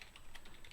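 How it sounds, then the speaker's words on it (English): Rapid clicking of a computer keyboard as someone types an instruction into a spreadsheet, a quick irregular run of close, crisp keystrokes with no talking. "forgive my bad typing there guys"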